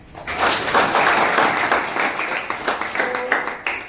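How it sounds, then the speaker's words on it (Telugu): An audience at a rangoli competition at Netaji Degree College in Sirisilla claps together, a dense, loud burst of applause sustained for several seconds before thinning out into scattered claps. "సో నా తరఫున మీ అందరికీ క్లాప్స్."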